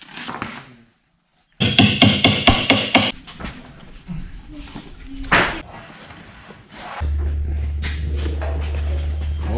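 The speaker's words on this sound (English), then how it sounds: "So we're gonna have to just pry this open." Wooden parts of an epoxied river table corner being forced apart, with a burst of loud, rapid cracking and knocking thuds, then scattered creaks and bumps before a steady low hum sets in.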